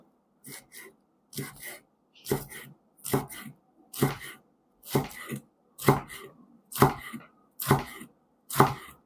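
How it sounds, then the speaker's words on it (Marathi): A knife slices through rolled aluvadi (patra), a colocasia-leaf roll, on a board: about eleven crisp, evenly spaced cuts, close and clear, with short quiet gaps between them. "आपण आळूवडी कशी कापतो त्याप्रमाणे ही अशी कट करून घ्यायची आहेत"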